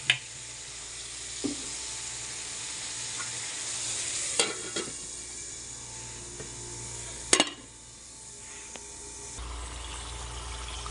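Food frying in a pan is stirred, giving a continuous close sizzle broken by several sharp scrapes and clinks of a utensil against the pan, with the hiss easing before a final louder burst.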